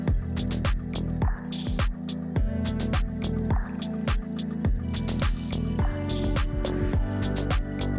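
Fuel drips steadily from disconnected fuel lines on a Golf Mk1 2.0L 8v, close and distinct, each drop a sharp plink in a quick, slightly irregular rhythm over a low background hum.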